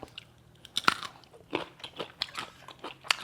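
Close-up crisp bites and crunchy chewing of bitter eggplant eaten with jaew chili dip, a string of sharp irregular crunches over about three seconds, with no talk.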